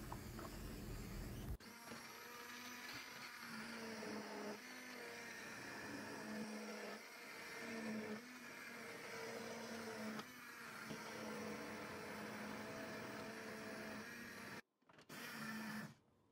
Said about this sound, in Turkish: Blenderla pürüzsüz hale gelene kadar çekiyorum.